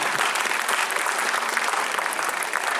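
Crowd applause at a poetry recital during the Taj Mahotsav kavi sammelan in Agra, sustained and loud, with many hands clapping evenly throughout without pause.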